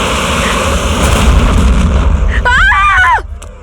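A gunshot-like bang sounds in a tense dramatic scene, a loud burst of noise under shouting voices, followed by a sharp high-pitched cry near the end.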